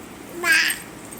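A voice imitates a cat, producing a single short, bright meow in a quiet room.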